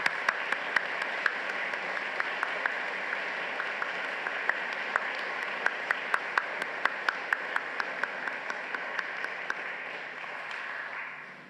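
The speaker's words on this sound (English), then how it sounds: "join me in thanking them with a big round of applause" A large crowd at a graduation ceremony applauding steadily at a distance, with a few sharper individual claps standing out, fading slightly at the end.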